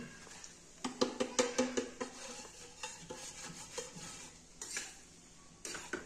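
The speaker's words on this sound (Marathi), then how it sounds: "हे पीठ आपल्याला छान खमंग असं मीडियम गॅसवर भाजून घ्यायचं आहे" Green mung flour roasting in ghee over medium heat for jaggery laddus, stirred with a utensil that taps and scrapes the pan in a quick rhythmic run, then sparser scrapes over a faint sizzle.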